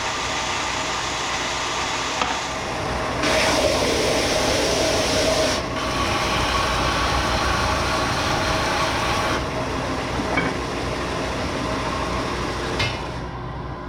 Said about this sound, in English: So I'm going to turn the vacuum on, so it's going to suck.